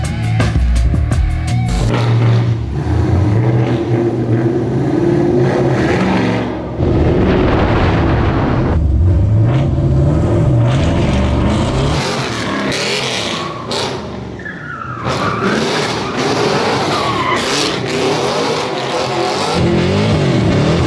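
A race car engine starts up and revs hard, loud and close, with harsh bursts of acceleration, rising and falling engine pitch and brief chopping breaks between pulls across the whole stretch.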